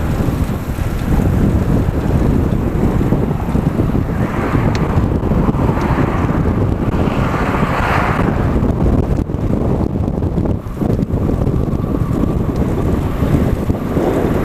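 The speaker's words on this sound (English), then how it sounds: "I think it's going to be quite windy." Strong wind buffets a microphone on a bike ride along the Katy Trail, a loud, continuous low roar with gusting surges throughout and no speech.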